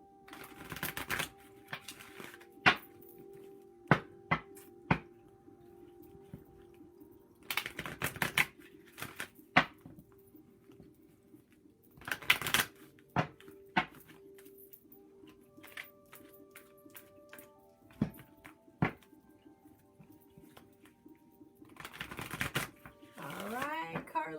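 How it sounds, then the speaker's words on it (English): Playing cards pulled and shuffled for a card reading, giving repeated short riffling snaps and flicks in scattered bursts, close and fairly crisp, with soft background hum between them. "Carlene, I'm going to pull a couple cards for you"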